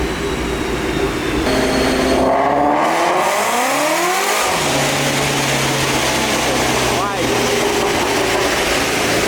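A supercharged Ford Mustang GT350 engine revs hard on a dyno, its pitch climbing steeply through a loud pull, then dropping to a steady lower drone with a brief shift, close and continuous.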